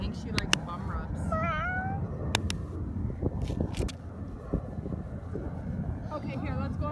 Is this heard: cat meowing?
yes